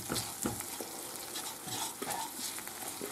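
Salt cod brandade with cream is stirred in a pan, a spoon scraping and swishing through the thick mixture over a soft, steady sizzle, close up with no talking.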